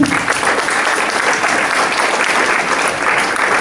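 Loud, dense applause from an audience at a graduation ceremony, continuous and even for the whole stretch, close and filling the room.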